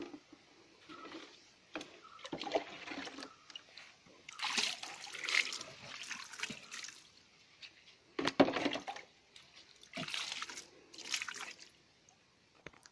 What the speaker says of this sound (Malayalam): ഇനി നമുക്ക് ഇതിൻ്റെ അകത്തേക്ക് കുറച്ച് വെള്ളം ഒഴിച്ചതൊന്ന് കഴുകിയെടുക്കാം